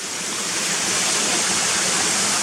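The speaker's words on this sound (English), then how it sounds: "So that's the waterfall that I missed the last time I came here." Waterfall on a rocky brook near Gunnerside, a loud steady broadband rush of falling water, close and unbroken throughout.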